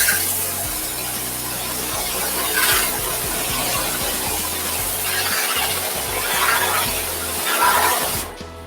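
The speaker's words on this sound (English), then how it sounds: "If you got a Kaivac, you hear it running in the background, this is a lance." A Kaivac cleaning machine sprays water through a rotating lance against restroom walls, making a loud, steady hissing spray with a low machine rumble beneath it and gentle rises in intensity.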